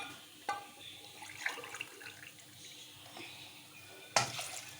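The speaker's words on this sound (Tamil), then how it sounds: "இப்போ 1 டம்ளர் தண்ணி, இந்த டம்ளரில் தண்ணி ஊற்றுறேன்." Quiet trickle of water poured from a tumbler into a pot of chicken and vegetable soup, with a few soft clinks of metal and a sharper knock near the end.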